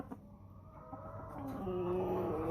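Winter-hardy dual-purpose Chantecler chickens on a farm, a low murmur of clucks swelling into a louder, drawn-out call near the end, fairly close, with no talk.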